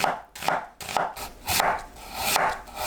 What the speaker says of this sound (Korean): 양파는 얇게 채 썰어서 준비합니다.